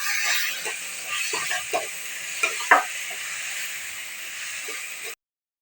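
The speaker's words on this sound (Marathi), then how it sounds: "टॅमॅटो असं सगळं टाकून आपण छान मिक्स करून घ्यायचं त्याचा कलर लाल होतोपर्यंत तोपर्यंत परतून घ्यायचं" Tomatoes and onion being stirred and sautéed in a pan, a steady sizzle with soft scraping strokes of a spoon, close and moderately loud, with no voices.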